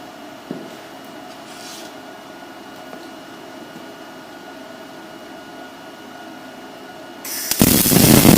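A MIG welder working on an arbor press stand strikes up after a long stretch of quiet room hum, and a loud, steady crackling hiss fills the final second.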